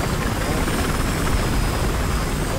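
A helicopter in the video game Battlefield Hardline gives a steady whirring rotor drone, loud and constant throughout, with a faint high whine riding above it and no speech.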